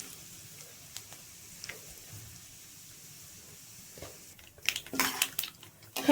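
Mustard seeds and urad dal spluttering in hot oil for a masala dosa filling, starting as sparse isolated pops and then breaking into a dense burst of loud crackling and spattering near the end.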